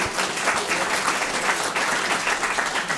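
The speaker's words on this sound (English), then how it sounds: "Let's give her a round of applause." Steady audience applause fills a scholarship reception room, dense, even clapping from many hands that holds at a constant level throughout.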